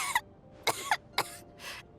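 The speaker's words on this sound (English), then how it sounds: "How long have you had that cough" A character in the video game Genshin Impact coughs four times in quick, dry, close bursts spread over two seconds, with no other sound around them.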